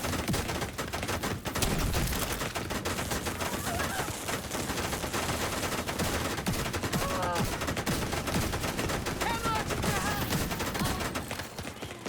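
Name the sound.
minigun gunfire in a video game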